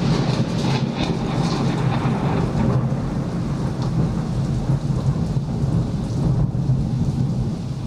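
A thunderstorm with rain gives a loud, constant roar of downpour with deep rumbling thunder rolling underneath, steady and dense from start to finish without speech.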